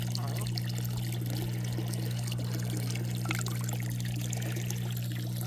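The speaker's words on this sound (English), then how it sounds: "I'm gonna let some more of this water out." Water is let out of a hot tub that serves as a backyard fish pond, pouring and trickling steadily throughout beneath a constant low electrical hum.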